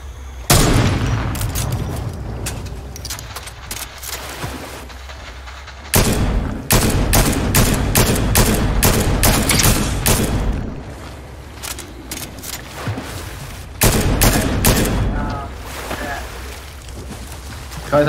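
Fortnite gunfire aimed at a loot chest, repeated loud close bursts of shots in several long volleys separated by short pauses, with a voice talking over parts of it.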